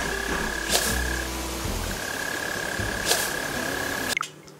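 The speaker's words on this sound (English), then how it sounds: "You find this thing chirping. You can hear it chirping, and it's found underground." Mole cricket chirping from underground in the Animal Crossing New Horizons game, heard as a steady sustained chirp tone that runs through most of the clip with soft game ambience and a few faint clicks, no talking.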